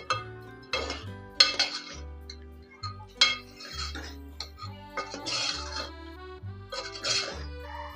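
Chicken being stirred with salt, turmeric and spices in a metal pan, giving repeated scraping clinks of a spoon against the pan in an uneven rhythm over a steady low hum, close and moderately loud.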